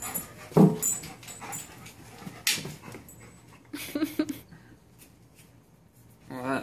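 A golden retriever mix dog whimpers and pants in several short bursts close by, with a person talking intermittently around the sounds.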